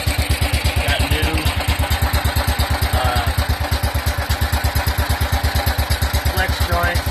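A 1958 BMW Isetta's small single-cylinder engine runs with a loud, fast, even chugging pulse, close up and steady throughout.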